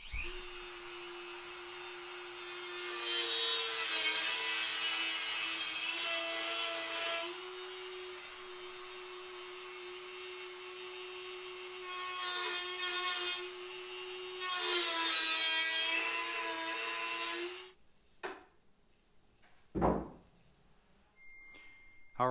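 A power tool cuts trim on a Ram Rebel third brake light mounting, whining loudly in two long bursts with brief stops and a short burst between, then fading to quiet with a few knocks.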